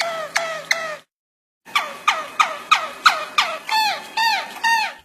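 A Harz roller canary sings a glou-type song with gurgled flute notes: three short clipped calls, a brief pause, then a steady run of repeated rolling, warbling syllables, close and clear with no talk.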